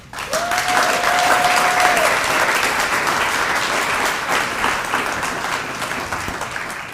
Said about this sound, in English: Please give a round of applause for our keynote speaker, Dr. Anton Bazell.